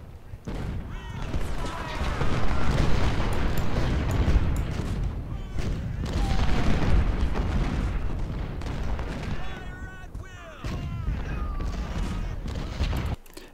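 Massed cannon and artillery fire from a Civil War battle in the strategy game Ultimate General: Civil War, with dense booming volleys and rolling rumble that continues throughout. Shouting and voices are mixed into the din.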